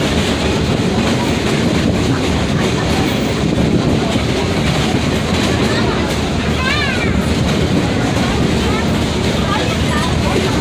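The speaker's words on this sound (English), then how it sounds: "you must remain seated while the train is in motion." A loud, continuous rumble of a moving amusement ride train with rattling carriage noise and a brief high squeal, faint voices mixed into the din.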